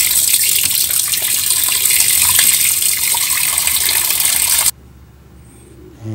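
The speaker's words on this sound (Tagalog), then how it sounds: "para malinis yung ating chicken legs" Chicken legs being washed for Mang Inasal-style grilling under a steady, loud gush of running tap water, which cuts off abruptly near the end, leaving a quiet room tone.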